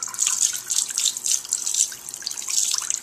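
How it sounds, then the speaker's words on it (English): Tap water runs steadily over sprouts being rinsed in a sink, a continuous splashing hiss with uneven spatter, close and fairly loud with no voices. "just let the water run on them and rinse them for a while until the water's clear"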